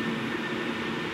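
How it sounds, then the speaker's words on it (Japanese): Steady, even rumble and hum inside a moving Hankyu electric train departing Kyoto-Kawaramachi, a continuous broadband roar with no voices. "まずは京都河原町駅から阪急電車に乗ります。"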